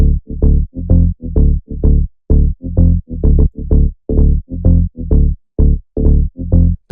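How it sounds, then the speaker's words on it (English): Layered sub and mid bass synth in a groovy house track, playing short punchy repeated notes in a bouncy syncopated pattern, loud and deep with clean gaps between hits. "we have these two layered sub and mid basses"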